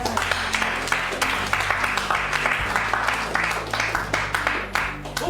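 A church congregation applauds together, a steady wash of many hands clapping with a faint rhythmic pulse, filling the room for several seconds.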